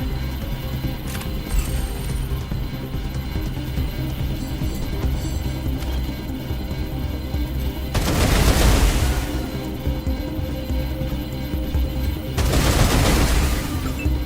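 Video game gunshots, two loud booming shots several seconds apart standing out over a steady hum of background game sound, with a faint earlier click.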